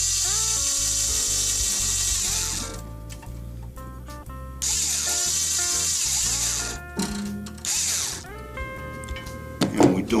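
A string winding machine whirs steadily while tightening a steel guitar string during a restring, with mechanical ratcheting and tonal buzzing, pausing briefly and restarting, close and fairly loud.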